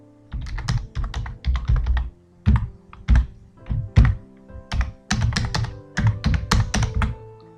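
An email ID being typed on a computer keyboard while filling an online college admission form: close, crisp bursts of keystrokes in irregular clusters with short pauses between words, no talking.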